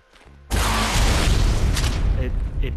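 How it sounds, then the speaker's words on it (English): Rockets from a launcher in ARK: Survival Evolved slam into a tech wall, a sudden loud broadband blast followed by a sustained roaring, crackling rumble of continuous impacts and debris, close and dense with no break. "21 rockets to take down a tech wall."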